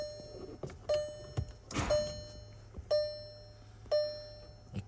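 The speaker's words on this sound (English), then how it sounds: "It clicks, but it does not start." Repeating dashboard chimes sound in a Volkswagen SportWagen TDI turbo diesel while a few dull clicks from the starter and a brief thunk occur, with no engine catching.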